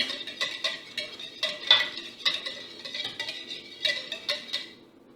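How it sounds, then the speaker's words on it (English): Yeast gets stirred into water in a bowl for homemade hoagie rolls, a spoon clinking and scraping in a quick, irregular rhythm of light taps, quiet and close, with no talking. "Now we're going to just stir it in."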